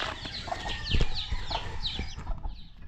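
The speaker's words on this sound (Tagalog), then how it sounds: "Yan na po yung ating mga alagang manok bago tayo lumusong" Pet chickens cluck and chatter early on a rainy morning before feeding, several birds calling in quick overlapping bursts at close range, with scattered thumps and knocks around them.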